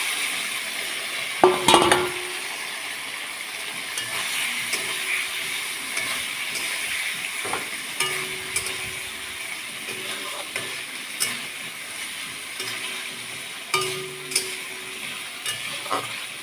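Potato and eggplant pieces fry steadily in a pan, a soft continuous sizzle broken by occasional clinks and scrapes of stirring, with no talking.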